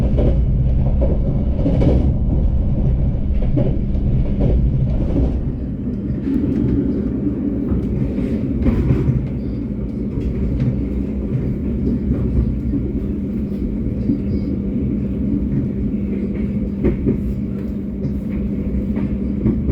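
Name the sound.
moving passenger train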